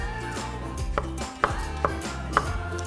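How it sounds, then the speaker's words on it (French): A knife chopping peeled papaya into small cubes on a cutting board, with several sharp, distinct knife strikes in a fairly steady rhythm at close range, and no talking. "maintenant je la coupe en tout petits cubes"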